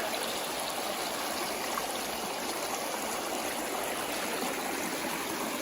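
Steady, full-bodied rush of the East Fork river stream near a campsite on the Foothills Trail, constant and fairly loud, with no voices or breaks.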